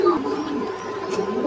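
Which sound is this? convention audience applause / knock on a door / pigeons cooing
pigeons cooing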